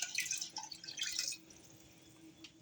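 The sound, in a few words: water being added to a chili pot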